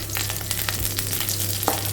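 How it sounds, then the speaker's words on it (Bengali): Curry leaves frying in a pan, a steady close sizzle with scattered sharp pops and crackles plus a low hum running underneath; no one speaks. "আচ্ছা, মোটামুটি ভাজা হয়ে গেছে"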